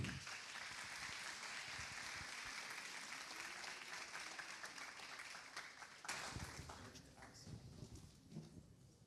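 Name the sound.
audience applause for the speaker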